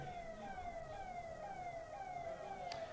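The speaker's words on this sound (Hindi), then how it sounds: "भैया ये एम्बुलेंस है क्या?" An ambulance siren wails past during an outdoor political rally, its falling tone sweeping steadily and fairly loud over a constant crowd-and-PA hum, with no speech in between.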